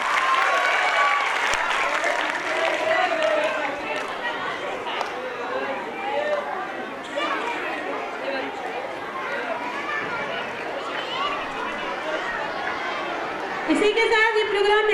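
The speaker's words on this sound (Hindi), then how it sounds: "और एक बार तालियां जोर से।" Loud applause at a school annual gathering fills the hall with crowd chatter and children's voices mixed in, fading slightly midway before a brief louder burst near the end.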